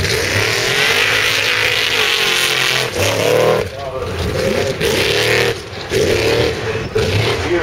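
A huge Chevrolet Baja truck roars past at the Goodwood festival, loud engine surging and dipping in waves, with a commentator talking over it.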